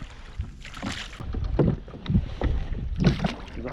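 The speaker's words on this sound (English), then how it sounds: "so I can do some rowing" Oars work a Mirror dinghy on open water, with several soft splashing, rhythmic strokes close by over a steady wash of wind noise.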